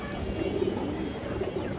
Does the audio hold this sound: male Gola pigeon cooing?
yes